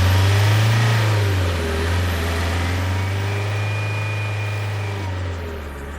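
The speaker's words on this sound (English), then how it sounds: "The bus that you must take to your mortal place of work is driving away without you" A bus engine in an audio-drama sound effect pulls away, a loud, low steady rumble that rises briefly and then fades gradually as the vehicle leaves.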